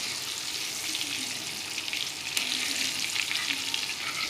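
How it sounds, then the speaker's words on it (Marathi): Shipla fish fry over low heat in a pan, giving a continuous, close crackling sizzle with small pops and no voices. "स्लो गॅसवरती करतोय आपण। आता यांना चांगलं परतून घेऊ।"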